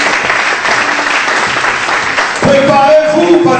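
Applause fills a church as the congregation claps together for a couple of seconds, then a voice speaks loudly over the fading clapping.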